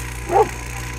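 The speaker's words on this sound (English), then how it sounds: "That's my dog barking at the neighbor's dog." A dog gives a single short bark at a moderate distance, standing out from a steady mechanical hum.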